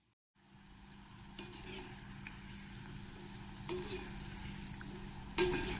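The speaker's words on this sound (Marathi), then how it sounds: "बारीक गॅसवरच तळायचे आहे आपल्याला" Chirote made from leftover chapatis frying in hot oil over a low flame, giving a steady soft sizzle with a few light clinks of a utensil against the pan.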